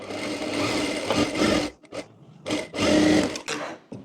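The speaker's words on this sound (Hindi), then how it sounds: "करने के बाद यहाँ नीचे की तरफ हम सिलाई कर लेंगे।" Domestic sewing machine stitching along the lower edge of a blouse belt, with two loud bursts of steady whirring separated by a short pause and a brief stop near the end, no talk.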